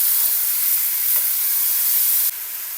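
Cut potatoes and cowpeas sauté in a pan, giving a steady, close sizzling hiss that drops slightly in level near the end, with no talking.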